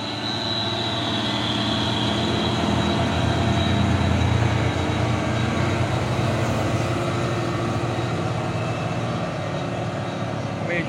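A Hino Euro 4 truck engine, an HDL 136 PS model, drones steadily in reverse with a low, continuous rumble at moderate distance, and muffled voices sound underneath.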